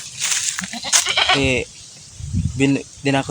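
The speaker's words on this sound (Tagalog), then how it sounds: "Ayun yung kambing." A goat bleats several times in quick bursts, loud and close, with people talking around the calls.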